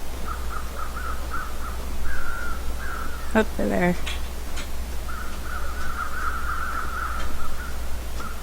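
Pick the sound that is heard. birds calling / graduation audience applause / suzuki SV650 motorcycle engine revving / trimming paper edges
birds calling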